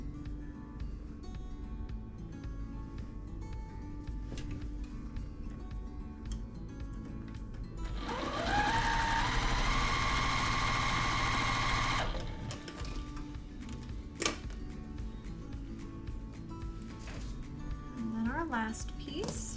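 Quilt pieces for a beginner brick pattern run through a sewing machine in one steady, close whirring stitch burst of about four seconds. A person talks before and after the stitching.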